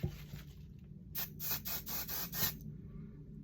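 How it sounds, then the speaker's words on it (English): Five quick hissing spray bursts of leave-in conditioner from a pump spray bottle onto a synthetic wig, in a steady rhythm, close and fairly loud, after some soft rubbing sounds. "I'm going to spray this on, but I'm also going to make sure that I spray it in the nape"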